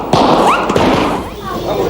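Fireworks bursting at a pub's opening night, a dense crackling roar with sharp thumps and whistling streaks, loud and close, with voices in the crowd underneath.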